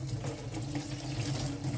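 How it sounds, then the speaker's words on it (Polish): Boiling water from a kettle is poured over eggs sitting in a sieve, producing a steady close-up stream of splashing, trickling water without a break. "Jajka kładziemy na sitko, gotujemy wodę w czajniku i przelewamy wrzątkiem."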